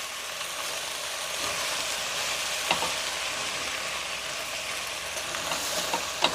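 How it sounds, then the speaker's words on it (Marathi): Washed, unsoaked rice is stir-fried in a pan, a steady close frying hiss with occasional faint scrapes of a spoon, continuous and with no one talking. "आता तांदूळ आपल्याला 2 मिनटं चांगला परतून घ्यायचा आहे."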